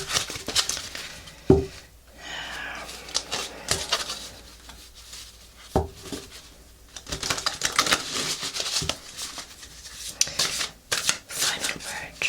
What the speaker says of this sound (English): This deck is pretty easy to shuffle.